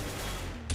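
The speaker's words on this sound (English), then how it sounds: "you just fire off 2 or 3 bullets" A suppressed M4A1-S rifle in a video game fires a short, sharp burst of two or three rounds right at the end, following a steady stretch of game ambience.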